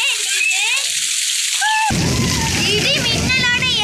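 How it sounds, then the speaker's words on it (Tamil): Heavy rain pours steadily with strong wind, a dense, loud hiss of splashing water that runs throughout, while voices, including a child's, talk over it. "எவ்வளவு அழகா பூலா மழை பெய்யுது இப்போ பாருங்க"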